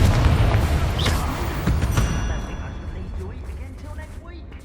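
A Confringo fire spell explodes in the Hogwarts Legacy video game, a loud, close, rumbling boom that starts at full force and slowly fades, with a little mechanical clatter and rattle trailing off at the end.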